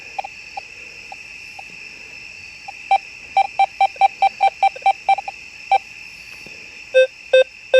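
A Deus 2 metal detector signalling a nickel, beeping in short repeated tones over a steady high electronic hum, starting sparse and then pulsing rapidly in a regular run.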